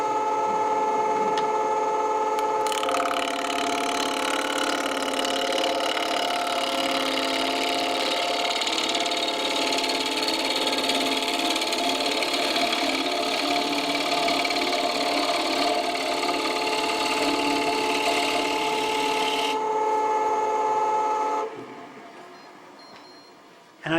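A small hand tool cuts into spinning wood on a lathe. A loud, steady scraping and whirring runs for about twenty seconds, then fades as the cut stops, leaving near silence.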